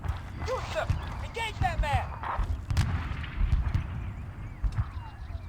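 Gunfire in the military video game Arma 3 comes as scattered sharp shots and low thuds under a voice speaking over the action.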